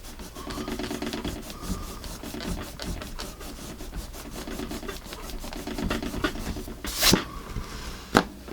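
A Magic Rub eraser scrubbing across paper in quick, close back-and-forth strokes, a soft rhythmic rasping with a couple of sharper knocks near the end.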